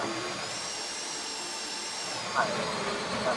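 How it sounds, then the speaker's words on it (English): A power drill whines continuously during a casino heist in GTA Online, a steady high-pitched mechanical drone that fills the whole stretch at close range, with brief chirping blips near the end. "How you doing with that drill?"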